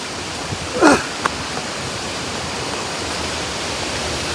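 Forest waterfall at Olagode Falls, a steady broad rush of flowing water heard close and unbroken, with one brief louder splash or knock early on and no talk.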